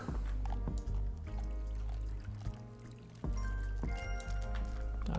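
Water pours into a pet's bowl in Animal Shelter Simulator, a close gurgling stream that cuts in and out in several short spurts, layered over background game music.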